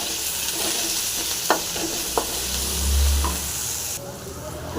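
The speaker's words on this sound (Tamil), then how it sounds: "இந்த கொத்தமல்லி கருவேப்பிலை போட்டுடலாம் இதையும் போட்டு நல்லா க்ளீனாக ஃப்ரை பண்ணிக்கலாம் நல்லா வதங்கட்டும்" Garlic, onion, coriander and curry leaves fry in a pan with a constant close sizzle, broken by a few sharp scrapes of a stirring spoon against the pan.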